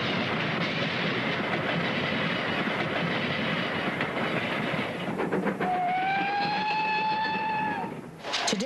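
A train rolls steadily along rails from start to finish, a continuous near rumble of railroad cars with clickety-clack, joined in the closing seconds by a sustained tonal whistle or horn that cuts off near the end.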